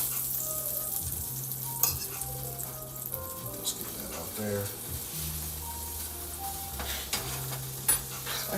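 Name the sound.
steak sizzling in butter in a pan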